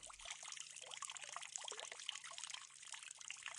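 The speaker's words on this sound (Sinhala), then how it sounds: "පොඩි වතුර පාරක සද්දයක් නම් ඇහෙනවා." A small stream of water trickles and splashes steadily, bright and continuous, close by with no voices.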